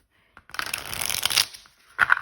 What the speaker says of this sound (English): let's clear these oracle cards away and get back to shuffling your tarot again